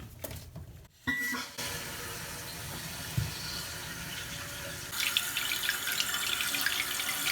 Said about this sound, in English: As the tank fills up with water